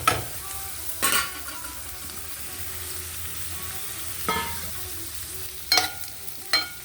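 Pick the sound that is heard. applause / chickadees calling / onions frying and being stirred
onions frying and being stirred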